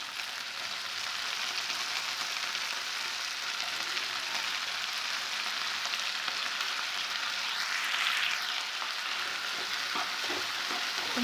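Turkey berries fry with softened onions in a pan, giving a steady, even hiss of oil that holds at constant loudness, with a brief surge of crackle partway through.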